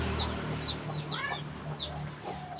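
Chickens clucking at close range with overlapping calls, a steady farmyard murmur underneath and no talk.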